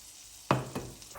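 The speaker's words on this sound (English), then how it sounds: "place a pan on a medium heat and place some butter and some oil, and let the butter and the oil to become hot" Butter and oil heat in a pan on medium heat, with a sudden burst of sizzling followed by a second softer crackle against a quiet background.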